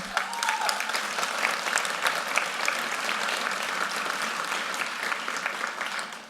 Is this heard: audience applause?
yes